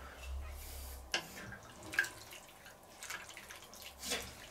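A splash of water poured into a cast-iron Dutch oven pot holding filet, cabbage and potatoes gives soft, scattered drips and gurgles over a faint background hiss.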